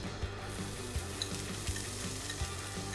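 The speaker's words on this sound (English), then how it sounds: "Now what we're gonna do is saute this one small yellow onion." Small yellow onion sauteing in olive oil in a pan, a steady close sizzle with periodic soft stirring knocks about every 0.7 seconds, no voices.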